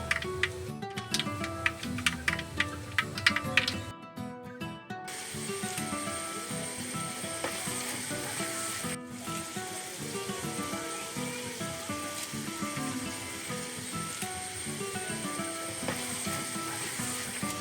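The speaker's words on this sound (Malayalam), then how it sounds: "കടുക് പൊട്ടുമ്പോൾ സവാള ഇട്ട് നന്നായി വഴറ്റാം." Mustard seeds pop and crackle in hot oil, a rapid close burst of sharp ticks, then onions drop in and settle into a steady loud sizzle for beef roast, with no voices.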